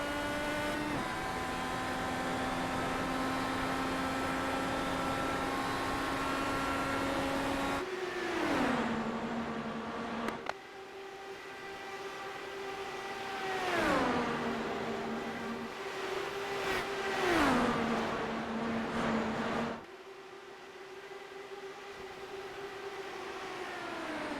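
IndyCar race cars in an iRacing simulation at Texas Motor Speedway accelerate on a restart, engines whining high and rising through repeated gear shifts, with several cars droning close together for a sustained stretch.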